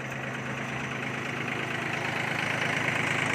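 A three-cylinder turbocharged tractor engine idles steadily, a continuous low rumble with a slight knocking pulse that holds even and close throughout, with no talk over it.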